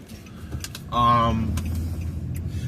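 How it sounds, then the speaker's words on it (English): Car driving through rush hour traffic, with a steady low engine and road rumble throughout and a brief, louder tonal sound rising out of it about a third of the way in. "navigating rush hour traffic"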